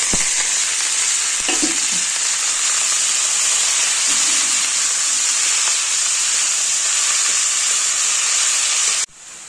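Chopped bathua greens and green chillies frying in a pan with fried eggplant, a loud, steady sizzle and hiss running unbroken for about nine seconds before cutting off abruptly.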